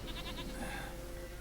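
A goat in The Witcher 3 gives a wavering, stuttering bleat near the start and then trails off into low ambient game background, moderately quiet with no voices.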